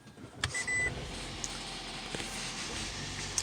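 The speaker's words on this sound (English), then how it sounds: "and then you're going to hear a beep" A Toyota Prius gives a short double beep close by as it enters maintenance mode, heard over a steady low background hum.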